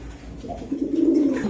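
Pakistani pigeons at a pigeon sale give a low, soft coo that swells after a brief quiet start and rolls on for about a second, close by with no talk.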